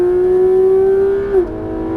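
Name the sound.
Porsche 991 GT3 RS engine accelerating at full throttle on track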